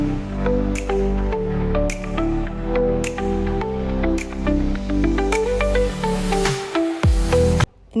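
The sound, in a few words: draining water from cooked rice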